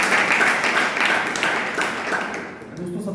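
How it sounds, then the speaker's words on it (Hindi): An audience at an indoor gathering claps together to welcome newcomers, a dense, fairly loud round of many hands that thins slightly toward the end. "एक बार नए लोगों के लिए ताली होनी चाहिए।"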